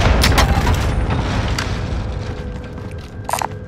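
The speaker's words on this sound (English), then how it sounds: "Allied cluster strike inbound" Cluster strike explosions in Call of Duty: Modern Warfare roll out as a loud, deep booming rumble that slowly fades, with a few sharp cracks near the end.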